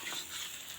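Meat being stirred and fried a second time in a pot, a steady broadband sizzle filling the whole moment with faint scraping texture, close and continuous with no talk.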